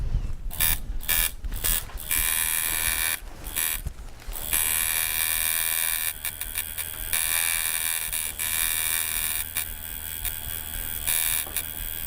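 A tattoo machine buzzing, a dense high-pitched electric whir that starts and stops in short bursts before settling into a long steady run, close and alone.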